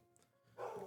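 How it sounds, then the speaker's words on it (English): A dog barks a couple of times in the background, brief and moderately loud after a quiet moment. "Pardon if you can hear my dog in the background."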